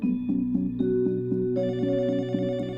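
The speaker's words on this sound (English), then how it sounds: "Desiree's phone rings at 4:25 p.m., a call she would never forget" A telephone rings in a home in Medford, a steady electronic ringtone with repeating tonal pulses that grows brighter partway through, loud and close with no talk over it.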